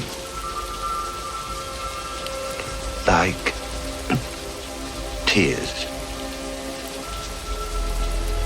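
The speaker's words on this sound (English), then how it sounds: "All those moments will be lost in time." Steady rain falls throughout in a recreation of the tears-in-rain scene from Blade Runner, a constant hiss under a low hum, broken by a few short spoken words.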